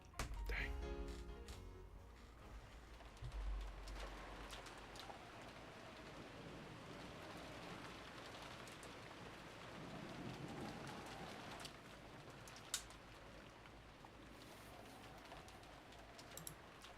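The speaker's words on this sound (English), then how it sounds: "The unsettling sound of the wind had now blended in with the sound of the rain" Steady rain falls in a dark, windswept scene from the Umineko visual novel, a continuous hiss of drops running for the whole stretch with a few brief louder knocks and no voices.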